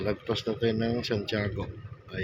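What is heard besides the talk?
No distinct noise like a dog, phone or traffic.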